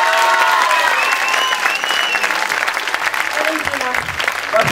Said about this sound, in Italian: facciamo un applauso fortissimo.